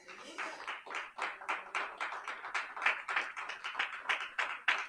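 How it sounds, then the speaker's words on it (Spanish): A church congregation applauding at a Friday service, rhythmic unison clapping at a quick steady beat, moderately close and filling the room. "¿Cuántos dan un aplauso al Señor?"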